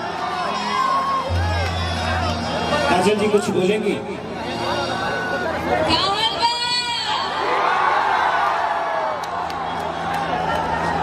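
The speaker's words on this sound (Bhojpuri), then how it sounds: "एक जोरदार ताली बजाइए" Crowd at an outdoor stage show in Baliya clapping and cheering loudly throughout, with shouts and whoops rising in bursts while someone speaks into a microphone over the noise.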